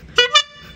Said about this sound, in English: Like a clown's honk.